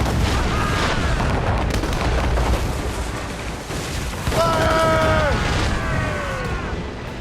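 Naval cannons boom in heavy, overlapping volleys during a ship battle in Assassin's Creed Rogue, loud and continuous, with crew shouting and whistling projectiles over the blasts.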